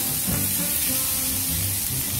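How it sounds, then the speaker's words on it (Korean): Bacon and onion stir-frying together in a pan for a cream risotto, a loud steady sizzling hiss throughout, close up with no talking. "색이 약간 노릇해졌다 싶을 때 양파를 넣고 볶아주세요."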